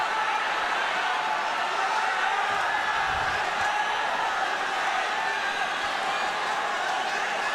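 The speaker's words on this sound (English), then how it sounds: "It is chaos in the crowd." Esports arena crowd at the 2019 LPL Spring grand final between Invictus Gaming and JDG: a continuous, loud roar of spectators fills the space beneath a commentator's voice.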